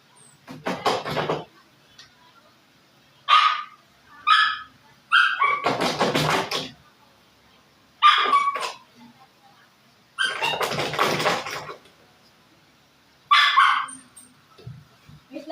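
A pet dog barks in repeated loud bursts close by, with pauses of a second or two between them, while a person talks nearby.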